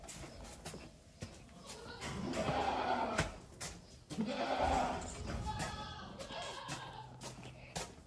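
Goats in farm pens give two drawn-out, wavering bleats in the middle, moderately close, with quieter barnyard shuffling and clatter between them.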